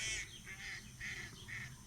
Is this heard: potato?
no